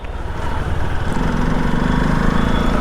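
A Hero Xpulse motorcycle fitted with a 234 big bore kit runs at light throttle, its engine a steady, close, rumbling drone that firms up slightly after the first second and holds evenly throughout.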